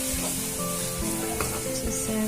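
Coriander chutney mixture being stirred in a hot pan, a steady close sizzle of frying with spoon scrapes throughout and no voices.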